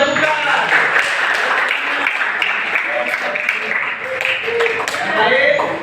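Group applause from a classroom of students, a dense steady wash of clapping lasting several seconds without pause.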